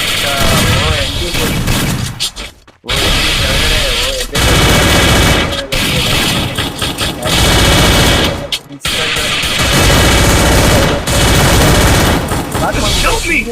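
Loud, rapid bursts of automatic gunfire in Free Fire, nearly continuous with a couple of short pauses between volleys.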